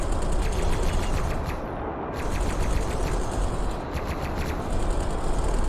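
Turrets and ship weapons blaze away in the space game X4 Foundations, making a dense, continuous rattle of rapid fire that stays loud and steady throughout.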